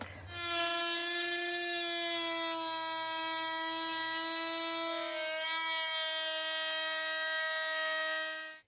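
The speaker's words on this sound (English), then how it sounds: "We're gonna multi-tool that back." Oscillating multi-tool cutting back a flooring edge on a teardrop trailer hatch, a steady high-pitched buzzing whine with strong harmonics that holds for about eight seconds, loud and close, then cuts off abruptly.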